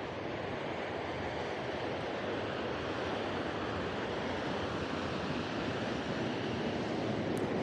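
A waterfall on a road trip between Wawa and Thunder Bay, Ontario, roars in a constant broadband rush that stays even and dense throughout, with no voices.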